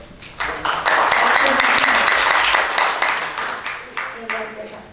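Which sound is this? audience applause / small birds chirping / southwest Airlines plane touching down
audience applause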